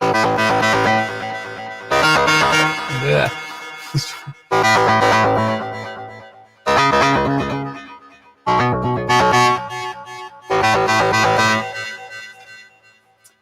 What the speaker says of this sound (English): It's going through the distortion pedal, brings it out into the mix.